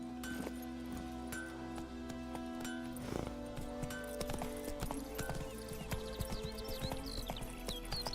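Hooves of a horse clip-clop in a steady rhythm through The Witcher 3: Wild Hunt, with a brief whinny and faint game ambience and music beneath, fairly close and continuous throughout.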